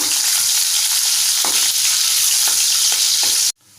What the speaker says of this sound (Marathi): इथे सोलून ठेचून घेतलेला लसूण घेतला चार पाच पाकळ्या ते घालूया परतवूया